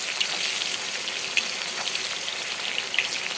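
Sliced onions frying in hot oil until crisp for a rui fish kofta curry make a constant close crackling sizzle, like light rain, dotted with tiny pops and no speech.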